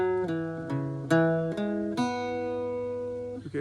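An Irish bouzouki plucks two groups of three notes from the Shaskeen Jig, starting on open D, each pick sharp and ringing into the next, heard close up and on its own.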